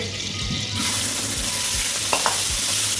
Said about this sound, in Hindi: जैसे ही ऑयल गर्म हो जाए हम इसमें अदरक लहसुन का पेस्ट शामिल कर लेंगे